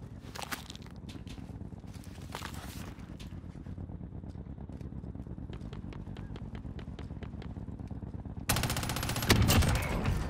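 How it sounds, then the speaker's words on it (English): Gunfire in Call of Duty Warzone, Cold War era, with an FFAR rifle setup: scattered shots and bursts, some distant, over a constant low rumble of game ambience, then a loud close volley near the end. "Wait, who is he shooting at?"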